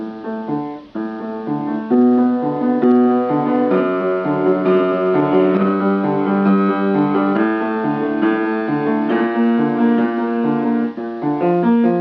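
Sustained low-register left-hand piano playing from Beethoven's Piano Concerto No. 1, a steady flowing passage of broken chords and bass notes, moderately loud throughout with no voices.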